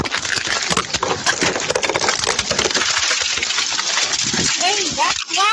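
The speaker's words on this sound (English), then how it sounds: "Okay, break the window and take her out." Police officers smash a woman's car window during a roadside stop, giving a loud continuous crunch and crackle of shattering glass with scattered tinkling fragments, while voices shout over the commotion.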